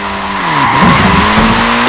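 A short-wheelbase front-wheel-drive Mini slides in Forza Horizon 4, its tires squealing loudly and steadily over a droning engine for a couple of seconds.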